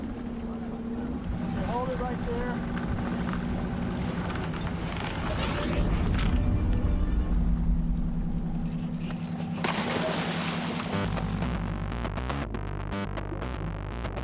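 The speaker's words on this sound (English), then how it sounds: "the captain revs the boat's engines" Dive boat engines revving at sea near a dive site, a loud, steady low rumble that swells in the middle before settling back, with a brief spoken line over the noise.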